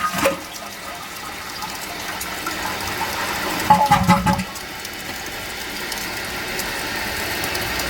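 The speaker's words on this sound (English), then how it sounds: "Let's see how it does on the tank fill here" A Duoflush toilet tank refills after a half flush, with steady rushing water and a mechanical ratcheting clatter from the fill valve partway through, no talking.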